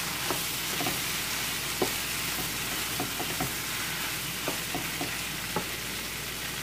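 Peppers and vegetables stirred in a pan for vegetable spaghetti, giving a steady soft sizzle with scattered light scraping clicks from the stirring, close and alone.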